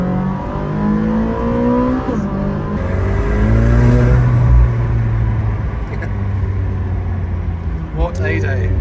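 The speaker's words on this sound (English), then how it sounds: "The turbos literally just spool up and then it's time to change." A turbocharged sports car accelerates hard, its engine note climbing steadily as the turbos spool, loud and close from inside the cabin, with a gear change near the end.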